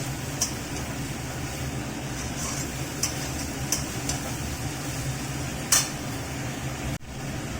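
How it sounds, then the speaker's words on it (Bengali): Fried potatoes and young jackfruit being stirred into a spice masala in hot oil: a steady background sizzle with a handful of light spatula scrapes and ticks, plus one louder knock near the end. "এটা দিয়ে একটু ভালো করে মিশিয়ে নেবো মশলার সঙ্গে"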